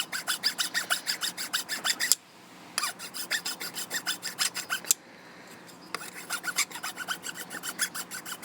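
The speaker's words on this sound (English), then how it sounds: "a file, in this case this is a flat file, it's a little slower, but this works just as well." A flat hand file rasps across a water lotus seed in steady, rhythmic back-and-forth strokes, close and crisp, with two brief pauses between runs of filing.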